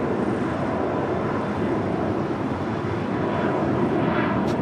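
A United Express Embraer E175 jet departs LAX for Tucson, its engine roar a steady, loud broadband rumble with some wind noise and no talking.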